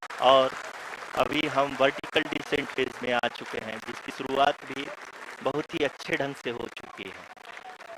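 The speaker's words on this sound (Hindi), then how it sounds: "आप तालियों के गड़गड़ाहट से सुन सकते हैं" Scattered clapping and cheering from an audience continue beneath someone speaking steadily in the foreground, during the live broadcast of the Chandrayaan-3 lander's Moon landing.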